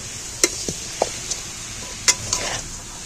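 Cooked jackfruit curry is scooped from a pan onto a plate, with a series of distinct metallic scrapes and taps of the spoon against the pan and plate over quiet background hiss.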